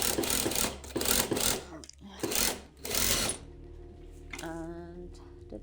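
A sewing machine stitches through layers of tote bag fabric with a fast, steady mechanical whir in short bursts, then stops, leaving quieter handling noises and a faint tonal hum near the end.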